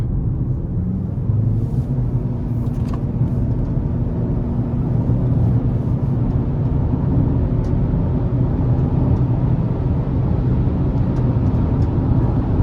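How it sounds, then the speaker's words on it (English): A 2025 Chevy Equinox ACTIV with its 1.5-liter turbo engine accelerates onto an interstate, a steady loud low cabin rumble of engine and road noise running unbroken throughout, with no talk. "But I'm gonna give it a little pull here getting on the interstate."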